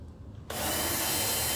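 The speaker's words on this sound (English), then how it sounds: "I'm going to turn on the feed rate motor." The feed rate motor on a Shopsmith planer switches on abruptly after a quiet moment, then settles into a steady, loud, whirring mechanical hum.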